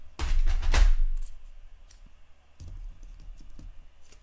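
Scissors cutting through a paper pocket for a pocket album, a couple of close crisp snips at the start followed by fainter handling clicks and rustles.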